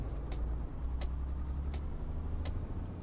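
A MAN truck driving in Euro Truck Simulator 2, with a steady low engine drone and faint periodic ticking above it, fairly quiet and continuous.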